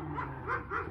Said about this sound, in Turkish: Güzel bir köpek ya.